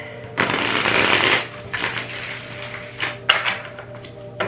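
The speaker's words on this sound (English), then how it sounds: "it's becoming easier to shuffle now that I'm using it more" A stiff tarot card deck is shuffled by hand in a long riffling burst, then several shorter, stiffer shuffles and taps follow, close up and clear.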